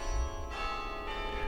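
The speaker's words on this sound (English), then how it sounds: "He's talking about Joey Falla, the Duke carillonneur, who takes the elevator up the chapel tower and plays every day." Carillon bells ring from the Duke Chapel tower, sustained overlapping bell tones with a second strike arriving about halfway through, resonant and distant-sounding, with no voices.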